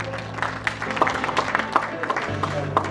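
Scattered claps from an awards ceremony audience ring out at an uneven pace over sustained background music, fairly soft and sparse rather than a full ovation.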